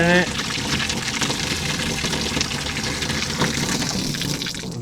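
Water poured into a clear hose being set up as a water level at a cattle corral, a continuous filling gurgle and rush that runs steadily for several seconds, close and fairly loud, with brief tonal sound at the start.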